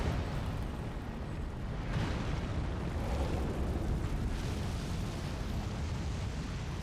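An Elden Ring boss breathes fire, producing a sustained, roaring whoosh of flame that is broad and steady for several seconds, fairly quiet overall.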